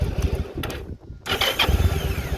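A 2001 Yamaha Drag Star 1100 motorcycle engine cranks and catches, roaring into a loud, throaty idle close by after a brief quiet gap.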